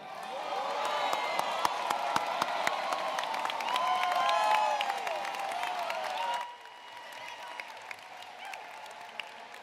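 Crowd applause for the graduating class of 2026 at a high school graduation ceremony, dense clapping with cheers and whoops, loud for several seconds before dropping to scattered claps.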